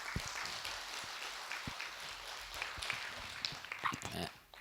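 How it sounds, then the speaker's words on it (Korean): Audience applause at a Buddhist monk's question-and-answer talk, fairly quiet scattered clapping with uneven claps and some background murmur, easing off at the end. "크게 한번 박수 주세요"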